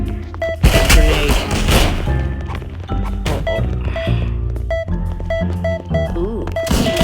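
A grenade explosion and gunfire in the video game H.I.D.E, heard as a loud crashing burst among repeated sharp shots and clanks in a busy, cluttered game soundscape.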